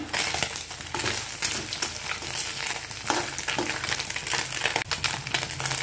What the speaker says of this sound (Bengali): এখানটায় মরলা মাছ ভাজা করছি।